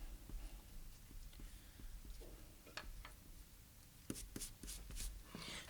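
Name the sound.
erasing pencil guidelines on paper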